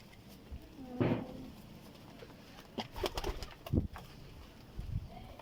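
Domestic pigeons on a rooftop loft give several low, soft coos in short separate bursts, close by over a quiet background.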